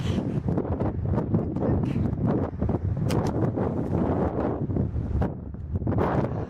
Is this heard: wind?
yes